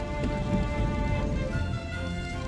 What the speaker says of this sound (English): It's teeming it down with rain.